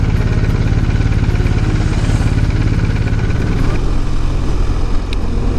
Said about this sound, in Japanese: 聞こえていますかね、このボクサーエンジンの音。